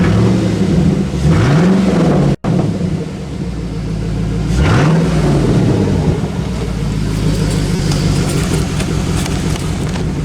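A Chevy engine idles and warms up through true dual straight-pipe exhaust with catalytic converters, a loud steady rumble near by with a couple of brief revs that rise and fall, plus one sharp momentary dropout.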